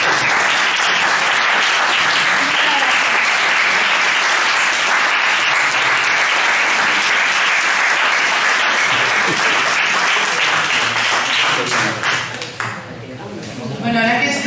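Loud, sustained audience applause rings out at a political talk and debate, continuous crowd clapping with voices mixed in that thins out and breaks up near the end.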